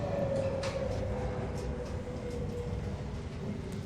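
Steady train ride inside a horror video game, a continuous low rumble with faint rail clatter and a thin squealing tone, alone with no voices.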